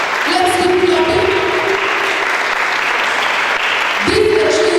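Audience applause at an opening ceremony for a children's reading club, sustained loud clapping from a crowd, with a voice speaking over it near the start and again toward the end.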